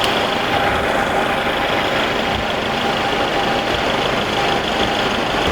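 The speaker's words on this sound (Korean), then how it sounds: "조기발화나 노킹 현상이 없어졌으니까 엔진이 잠잠해진 거고" A car engine idles smoothly after a combustion chamber carbon cleaning cured its knocking and pre-ignition, giving a steady, loud, even hum with no talking.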